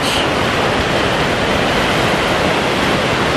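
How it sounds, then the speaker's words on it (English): Waves break on a beach in a continuous, loud, rushing wash of surf with no pauses and no voices. "And I'm standing here on the beach."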